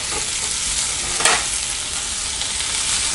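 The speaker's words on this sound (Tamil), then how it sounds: "வெங்காயத்தை நல்லா வதக்கிட்டோம். இப்போ நம்ம 2 தக்காளி ஆட் பண்ணிக்கலாம்." Two tomatoes go into a pan of well-sautéed onions, raising a brief louder burst of sizzle over a steady, close frying hiss that carries on alone.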